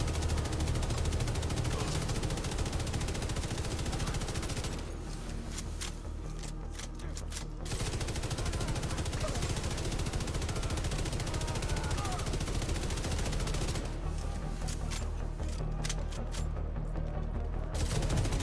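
Gunfire in The Division 2 video game: dense, sustained bursts of rapid automatic shooting with brief pauses, loud and continuous in the mix, with someone talking over it at times.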